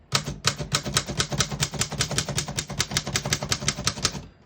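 A 1926 Underwood Bank 3 antique portable typewriter types numbers in a steady, rapid run of sharp metallic key strikes, close and clear, about five per second with no voices.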